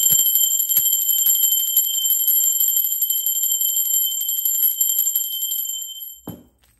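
A single bell rings with a bright, sustained high tone that holds steady for about six seconds before cutting off with a brief low thump at the end; no one speaks over it.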